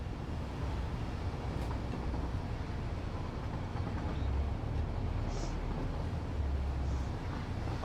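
A train rolls past in the factory game Satisfactory, a steady low rumble of rail noise with faint clanks, continuous throughout and fairly close.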